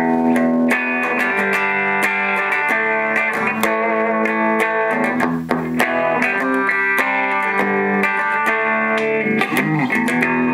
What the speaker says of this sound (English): I'm going to do a bridge pickup on this guitar, and I'm going to give you clean tones